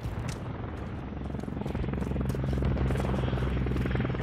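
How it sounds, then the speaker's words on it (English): A friendly Overwatch helicopter arrives in Call of Duty: Modern Warfare III, its rotor thumping in fast rhythmic chops that grow louder and nearer as it comes in, over a rumbling game background. "Friendly Overwatch helo inbound."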